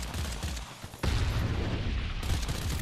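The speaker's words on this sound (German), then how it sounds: "Einfach mal explodieren lassen" A sudden loud blast in the video game Earthfall follows a quieter stretch, leaving a dense rumbling roar with scattered crackling bangs; no clear speech.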